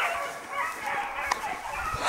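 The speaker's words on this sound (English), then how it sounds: "Right by camp, dogs are coming right at me." Hounds bay and yip on a hare's trail near camp during a hunt, a loose chorus of barks at moderate distance with a sharper bark standing out, over steady outdoor background noise.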